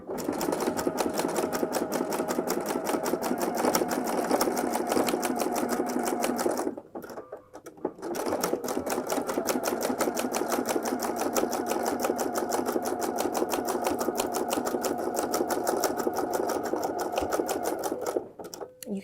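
A sewing machine stitches a zigzag on fold-over elastic with a fast, steady mechanical whir and rapid needle clatter, close and loud, pausing briefly partway through before resuming.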